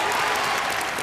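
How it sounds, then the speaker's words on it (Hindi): Studio audience applause on a televised game show, a brief burst of dense, even clapping throughout. "अपने आप के लिए तालियां।"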